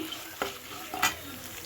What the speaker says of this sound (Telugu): నేను మూడు ఎండుమిర్చి మజ్జిగ చీల్చుకుని వేసుకుంటున్నాను ఇప్పుడు ఇవన్నీ బాగా వేపేసుకుందాము